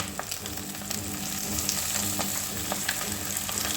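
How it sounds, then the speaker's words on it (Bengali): Eggplant pieces fry in hot oil in a pan alongside potatoes for a fish-oil chorchori, a dense steady sizzle with scattered crackles and pops running throughout, close and loud with no talking. "এইবার এই যে বেগুনগুলো রেখেছি এই বেগুনগুলো ঢেলে দেবো"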